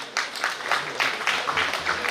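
Audience clapping at a kabaddi tournament event honoring an award recipient, a moderate rhythmic patter of applause from a crowd, rising and falling in waves.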